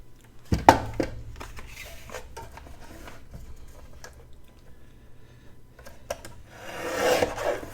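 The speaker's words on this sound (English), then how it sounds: "I'm going to trim just a tiny bit off right here." A paper trimmer slices a small sliver off a piece of card stock, with a sharp snap followed by a soft scraping drag and light handling rustle, close up and without speech.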